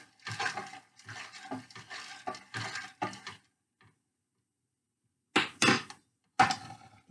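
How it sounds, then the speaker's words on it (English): A pot of pasta fagioli with V8 juice is stirred, giving a series of close scraping, sloshing strokes in quick bursts, then a silent pause before two more short stirring bursts, with no talk. "So I'm going to stir it."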